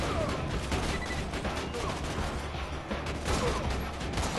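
Automated turret gunfire in the video game Borderlands 2 rattles in dense, continuous bursts of rapid shots, loud and close amid busy game noise.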